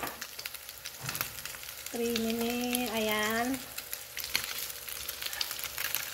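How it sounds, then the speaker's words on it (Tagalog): Potatoes frying in a pan, a soft steady sizzle under occasional talk, with a tonal whine rising for a moment partway through. "Ayan, prito-prito."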